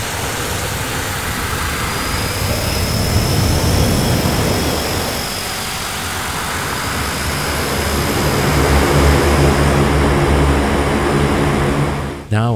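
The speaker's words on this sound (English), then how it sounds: "When the timer runs out, the starter has finished, but the engine will continue its startup process." Aircraft engine roar from a C-130 turboprop starting up in the DCS flight simulator game, a dense steady whine and rumble that swells slightly as the engine spools up, ending abruptly with a faint click.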